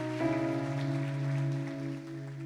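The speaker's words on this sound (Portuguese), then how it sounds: "Você pode aplaudir ao Senhor?" Church congregation applauding, a steady, dense patter of clapping throughout under sustained organ or keyboard chords, fairly even in loudness and fading slightly at the end.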